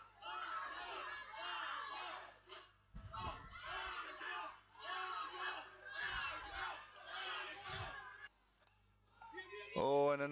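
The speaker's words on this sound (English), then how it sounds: "The Italians are cheering for Daniel's home run." A crowd of Italian fans cheers and shouts at a youth Little League baseball game after a home run. Excited young voices rise and fall in repeated bursts against a low hum, and a short hoot comes near the end.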